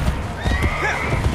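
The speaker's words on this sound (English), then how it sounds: "Ride, horsey, ride!" Horse galloping in the Assassin's Creed: Brotherhood video game, a steady clip-clop of hooves with snorts and whinnies over dense game ambience, loud and close throughout.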